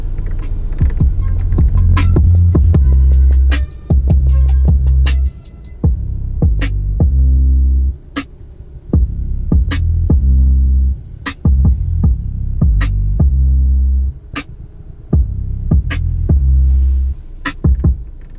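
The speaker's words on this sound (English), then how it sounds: "the upgraded 600-watt 14-speaker Harman Kardon premium sound system" Music playing through the 600-watt, 14-speaker Harman Kardon premium sound system in a 2022 Volvo XC60 Recharge R-Design cabin, loud and bass-heavy with a steady throbbing low end and sharp percussive hits, no talking.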